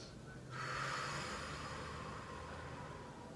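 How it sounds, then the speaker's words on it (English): A single audible inhale during a stretching exercise, a soft breathy intake that swells after a brief pause and then trails off into quiet room hiss. "and breathe in."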